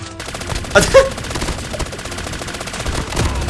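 An M13 rifle fires in Call of Duty Mobile: a close, loud burst of rapid shots, with a sharp crack near the start and quieter repeated reports after.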